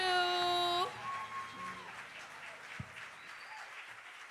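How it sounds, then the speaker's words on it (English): Graduation ceremony audience applauding after a band's performance, as a held musical note ends, clapping continues quietly and fades, with faint voices underneath. "Let's give another round of applause for Maya and her band."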